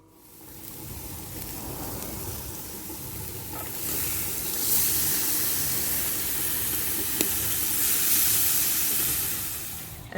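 Chicken kebabs on skewers and steak sizzling on a grill, a steady close hiss and crackle of fat that stays at an even level throughout, with no voices.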